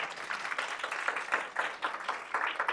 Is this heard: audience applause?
yes